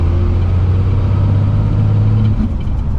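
Cummins diesel truck engine pulling hard in fourth gear, a loud, steady low drone with rising load that eases off near the end, heard close with no talk.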